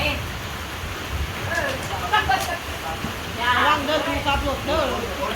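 Steady rain with gusting wind sweeps over a Thai street vendor's stall during a storm, a broad hiss running throughout beneath several people talking.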